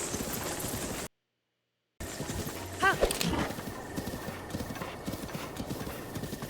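Horse hooves clip-clopping in the video game Zelda Breath of the Wild, a steady galloping patter with a whinny partway through, briefly cut by a second of silence.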